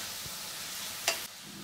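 Onions and tomatoes sautéing in a pan give a steady, close sizzling hiss, with a brief louder burst of frying partway through, and no voices.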